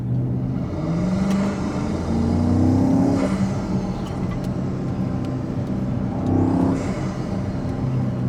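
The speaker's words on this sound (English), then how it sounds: "Yeah, those intakes are incredible." Intake roar from a BMW X5M accelerating in second gear, recorded close to the intakes: a continuous engine drone with rising revving sweeps near the start and again later, loud and steady throughout.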